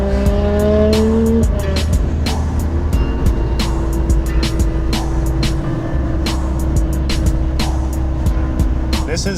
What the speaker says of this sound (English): you'll enjoy some cruising shots now of some RB26 noises